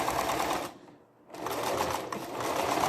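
A sewing machine stitches long stitches in a rapid, even clatter, close and loud, pausing briefly for under a second before resuming steadily.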